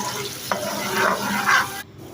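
Oil with chopped onion crackles and sizzles steadily in a pan for a dal tempering, with a stirring scrape partway through and a brief pause near the end.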